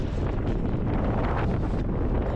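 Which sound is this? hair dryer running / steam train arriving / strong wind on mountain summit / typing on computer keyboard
strong wind on mountain summit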